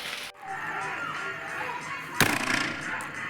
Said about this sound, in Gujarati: ચાલો ફટાફટ આપણે હે ને મસ્ત મજાના ફટાકડા ફોડવા જઈએ